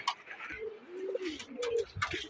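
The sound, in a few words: pigeons cooing as they come down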